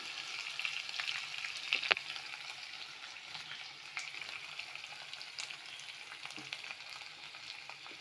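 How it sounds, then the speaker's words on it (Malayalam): Garlic and curry leaves frying in hot oil after mustard seeds have popped, a steady close sizzle with scattered crackles and a few sharp spits, no voices. "കടുക് പൊട്ടി വരുന്നുണ്ട് നമുക്കിനി വെളുത്തുള്ളി ഇട്ട് കൊടുക്കാം വെളുത്തുള്ളി ഇട്ടു കറിവേപ്പില ഇടാം"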